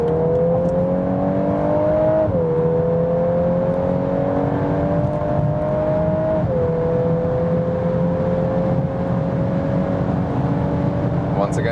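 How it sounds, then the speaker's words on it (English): A Volkswagen Golf 8 R in Nürburgring mode accelerating hard from about 80 km/h out of a tunnel, its engine note rising steadily with two clear upshifts, loud and continuous from inside the cabin. "how's the acceleration when we are already at speed, getting out of the tunnel, 80 kilometers to whatever"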